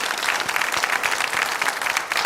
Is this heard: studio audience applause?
yes